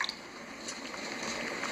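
Water poured from a height onto a tea bag in a cup, a soft continuous splashing trickle with a few wet squishy bursts, close and fairly quiet, with no talking.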